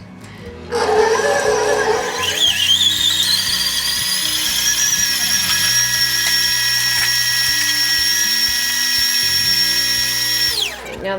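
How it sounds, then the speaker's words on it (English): Electric mixer switched on to beat coconut cream cheese pound cake batter, a sustained high whirring whine that holds steady for about ten seconds before cutting off, no talk. "let me plug the mixer in"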